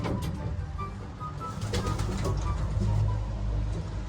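Red bar racing pigeons in a loft give several low, throaty coos close by, repeating over a busy background with a few faint chirps.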